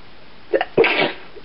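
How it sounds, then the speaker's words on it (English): A single sneeze with a short sharp intake followed by an explosive burst, close and loud, with no talking. "Oh god, I'm gonna sneeze."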